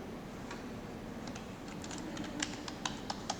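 Quiet, rapid tapping of keys on a computer keyboard as a file name is typed, the clicks growing slightly sharper and more distinct toward the end over a soft background hum.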